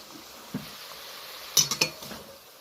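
Ground cumin, coriander, chili, turmeric and Kashmiri red chili being stirred and fried in a pan: a faint low sizzle broken by a soft knock, then a quick cluster of three sharp metallic scrapes and clinks.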